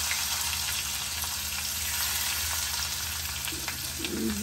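Beef tripe cooks in hot oil with fried onions poured over it, a steady close sizzle and crackle of frying that runs throughout, with a faint stirring scrape near the end.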